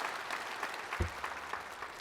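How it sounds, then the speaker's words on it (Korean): A church congregation applauding during a sermon, a steady wash of many hands clapping at moderate distance, with a low thump near the middle. "박수 한번 해주세요."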